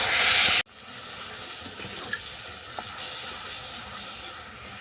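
Spice paste goes into hot oil left from frying fish, with nigella seeds tempered beforehand. A loud sizzling burst cuts off abruptly, then a softer steady frying hiss continues with faint pops.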